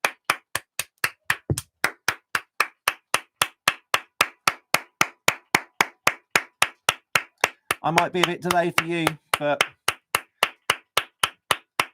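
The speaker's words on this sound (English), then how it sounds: "I'm hearing lots of claps from outside, so I'm going to join the clapping." Steady, sharp hand claps repeat at an even beat, close and crisp, while a voice speaks briefly partway through and the clapping carries on.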